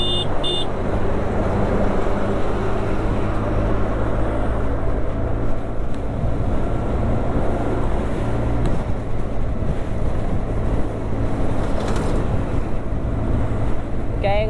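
A TVS NTorq 125 scooter ridden at night in race mode gives a continuous engine drone with heavy wind rumble on the microphone, steady and close throughout.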